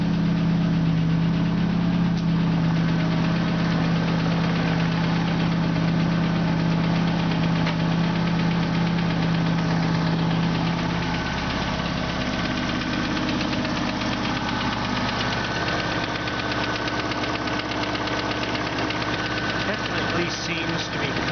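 An idling car engine runs steadily, heard close up under the open hood, with a fast, faint, repetitive tapping within the drone that seems to come from the back of the engine.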